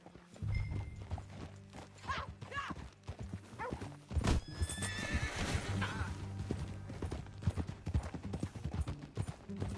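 A horse whinnies loudly amid steady clip-clopping hooves, with background music and ambient noise throughout, in the video game Red Dead Redemption 2.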